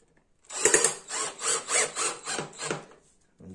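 Carrying handles are fastened onto a wooden beehive box with a ratcheting tool, giving about seven rhythmic grinding cranks in quick succession, close and alone.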